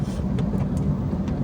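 A car driving along Canal Road in Pakistan, producing a steady, loud interior road rumble with faint intermittent ticks over the continuous drone.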